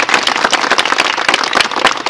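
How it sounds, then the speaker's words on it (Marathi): A crowd claps for women returning from a pilgrimage, a dense, loud patter of many hands that carries on evenly the whole time. "त्यांच्यासाठी जोरदार टाळ्या."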